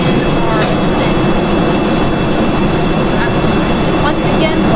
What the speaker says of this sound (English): we're going to start up our engine and begin our ascent